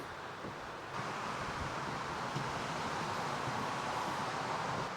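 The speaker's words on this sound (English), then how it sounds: "It is a bit breezy over this side." Wind gusts across a beach by a jetty in winter, a steady broadband rush with buffeting on the microphone that strengthens after the first second, with no voices.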